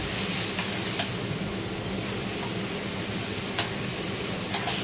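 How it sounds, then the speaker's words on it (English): Steak sizzling steadily in a pan as butter and thyme are spooned over it, a dense continuous fry with faint ticks and spoon scrapes, close and loud, no talking. "Get a little spoon, and just ladle the butter and the thyme over the steak."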